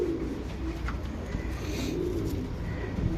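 A pair of racing pigeons cooing softly close by, a low repeated coo over a murmuring background with no talk.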